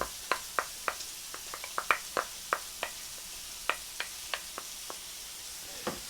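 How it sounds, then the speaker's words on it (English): A utensil creams yogurt into cream cheese in a bowl, giving a series of soft, wet taps and knocks in an uneven rhythm, close and fairly quiet, with no talking. "Now I'm going to cream the yogurt into the cream cheese."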